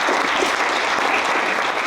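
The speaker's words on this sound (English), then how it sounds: "Let's clap for her." An audience at a Bitcoin unconference applauds in steady, dense clapping that fills the whole moment at an even, fairly loud level with no pauses.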